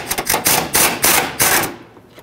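Rapid bursts of a power tool backing out 13mm mounting bolts on a 2013-2020 Nissan Pathfinder battery tray, several loud rattling pulses in quick succession before trailing off, with no talk.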